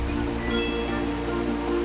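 Water in the Wangsuk stream flows steadily with a broad, constant rushing murmur, continuous and fairly loud throughout.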